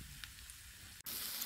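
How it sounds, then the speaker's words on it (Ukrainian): Fritter batter spooned into hot vegetable oil in a heated pan, frying with a steady close sizzle and crackle that drops out for an instant, then returns brighter and louder. "На розігріту пательню з рослинною олією викладаю тісто столовою"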